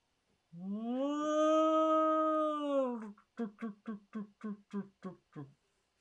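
A person's voice imitates a Purrgil space creature from Star Wars: a long, wavering, whale-like moaning call followed by a rapid series of about eight short, pulsing chirps, loud and close.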